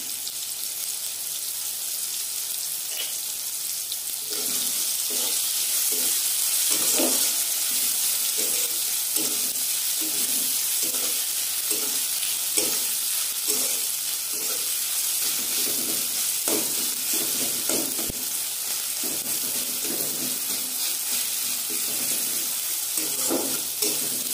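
Ginger paste is frying in hot oil for chana dal, giving a loud, continuous sizzle. Repeated scraping and stirring strokes of a spatula in the pan are spread through the whole stretch, and no one speaks.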